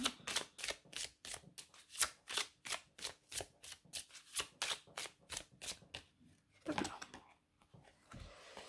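Oracle cards shuffled by hand for a reading, a quick run of about twenty crisp riffling bursts in steady rhythm, close and fairly quiet, ending with a few looser card sounds.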